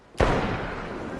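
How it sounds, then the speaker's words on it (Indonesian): A single sharp gunshot in a zombie survival video game after snowfall stops, a loud sudden crack with a booming low tail that rings out and decays over about a second. "terdengar suara tembakan."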